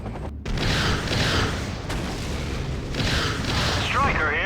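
Gunfire and explosions rumble continuously through an Act of War battle as the base comes under attack, a dense, loud roar of shooting and booms with radio-style voices talking over it.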